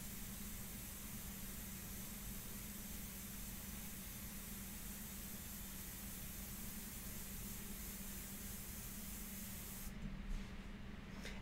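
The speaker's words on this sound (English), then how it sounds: "Let the airbrush do a lot of the work, you know, as far as edges and everything." Airbrush spraying India ink onto paper for a portrait, a faint, steady hiss of air and ink running continuously without pause, alone and fairly quiet throughout.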